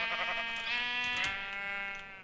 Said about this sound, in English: we are already getting annoyed by sheep